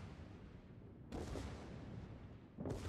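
Warship secondary guns firing in World of Warships aboard the battleship Massachusetts: deep booming blasts, one heavy burst midway and another at the end, over a low rumbling background.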